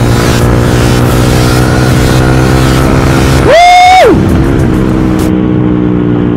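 A Yamaha R15 motorcycle fitted with a custom Termignoni racing exhaust drones steadily and loudly close by, then gives one sharp rev that climbs, holds briefly and falls back before the engine settles to its steady note.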